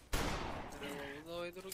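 A single sharp gunshot from a video game bursts out near the start, followed by a brief decaying tail and a tonal in-game sound; no one speaks over it.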